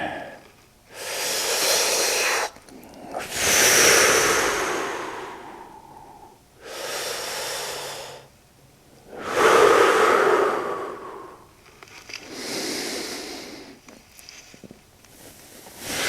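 Deep yoga breathing, close and clear, in roughly five long inhale and exhale surges separated by brief quiet pauses, with no talking.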